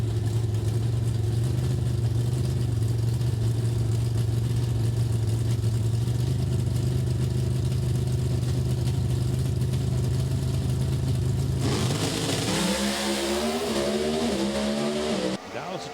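A drag racing car roars down the strip at the 2021 Heartland Nationals in a sustained, distant engine blare, shifting in pitch near the end as a commentator talks over it.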